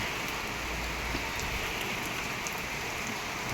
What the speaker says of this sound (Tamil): ஈவினிங் பார்த்திங்கன்னா மதுரையில் நல்ல மழை சூப்பராக இருந்துச்சு.